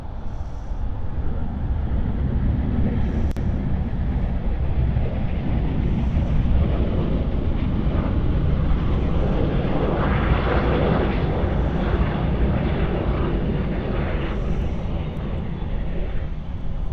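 An airliner's engines roar steadily at Sydney Airport near runway 34, a loud continuous rumble with wind buffeting the microphone throughout.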